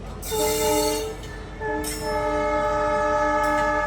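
A train horn blares in long, loud blasts, then sounds again and holds steady as the train rumbles past nearby, near Pakistan's shrines of Bodla Bahar and Shahbaz Qalandar.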